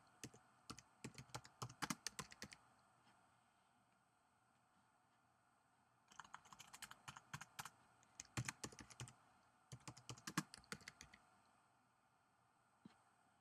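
Keys clatter on a computer keyboard while text is typed into Adobe After Effects CS6, coming in three quick bursts of clicks separated by pauses, close and fairly quiet, with no talking.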